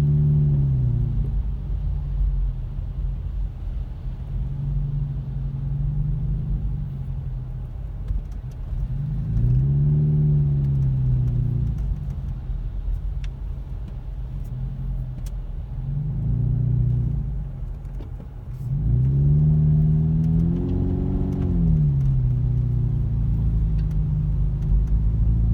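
A car with a loud, failing muffler drones heavily from inside while driving, its engine rising and falling in several rev swells over a continuous low rumble.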